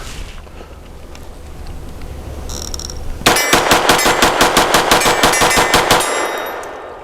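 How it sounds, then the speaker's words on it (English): A Grand Power LP380 pistol is fired rapidly through a full, fully stuffed magazine: after a quiet lead-in, a loud, close string of about twenty sharp shots in quick, slightly uneven succession, then it falls silent. "It's almost like a sputtering machine gun."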